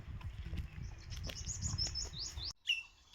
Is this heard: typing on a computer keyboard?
no